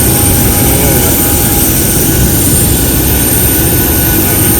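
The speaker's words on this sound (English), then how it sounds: "So you can hear the sound of engines roaring." Loud, steady roar of Dash 8 turboprop engines close by, a dense continuous drone with a faint high whine on top.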